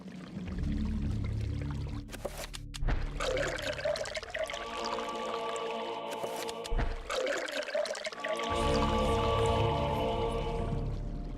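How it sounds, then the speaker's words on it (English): Water poured steadily to fill a container in the video game Eternal Darkness: Sanity's Requiem, a continuous splashing, trickling stream that briefly breaks off and resumes, close and clear. "To fill it with water."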